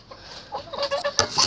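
Farmyard hens cluck during feeding time, with short, close clucks and squawks bunching up in the second half, loud and busy, with no one talking.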